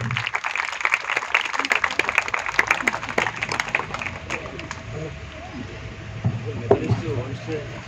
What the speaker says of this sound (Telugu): గట్టిగా కొట్టాలి మరి చప్పట్లు.